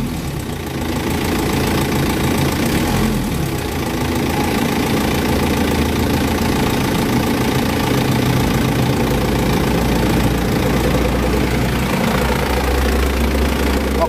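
An Isuzu Elf long-body truck engine idles steadily, a loud, continuous low rumble with a fine knocking texture that holds even throughout, with no talking.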